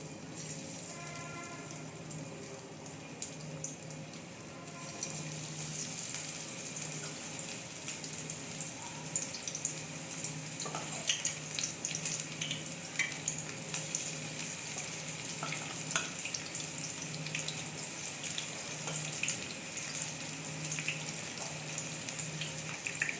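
Pakodi frying in hot oil in a home kitchen, a faint steady sizzle and crackle with small pops, continuous and close, running with no talk.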